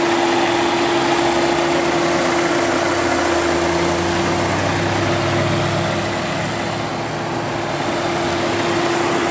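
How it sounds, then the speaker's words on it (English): 2016 Volvo S60 Inscription T5 Platinum with its 2-liter Drive-E turbocharged four-cylinder idling steadily, a close, even engine hum with a constant tonal whine holding for the whole stretch. "It is equipped with Volvo's 2-liter drive-e turbocharged 4-cylinder."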